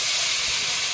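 Water poured into a hot pan of fish curry with turmeric and salt sets off a loud, steady steam hiss that fills the whole second without a break.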